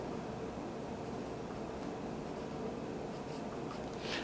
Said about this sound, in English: we write down the basic formula